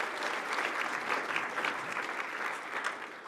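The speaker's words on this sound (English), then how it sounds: "A round of applause for Sarah, everyone." Room full of guests applauding at a lunch event in Melbourne, a steady, even wash of clapping from many hands held throughout the short stretch with no talk over it.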